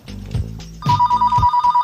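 A landline telephone rings loudly and close by, giving short repeated bell-like bursts that pulse steadily with no talking.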